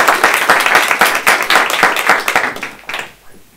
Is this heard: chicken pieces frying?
no